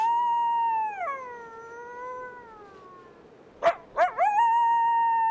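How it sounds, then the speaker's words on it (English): A coyote's long, wavering howl slides down in pitch, then breaks into a few sharp yips before the howl rises again, carrying clearly over a quiet forest background. "the coyote is best known for its cunning ways and eerie wolf-like howl"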